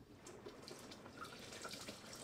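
Water poured into a large measuring cup for a KetoChow shake, a faint, steady trickle with small splashy bursts, quiet and continuous with no talking.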